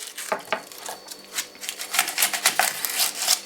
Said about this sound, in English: Now we have to cut the onion.